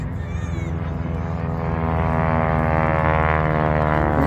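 A propeller airplane flies at an air show in Bealeton, Virginia, its steady harmonic engine drone swelling louder and closer over a few seconds with no talk.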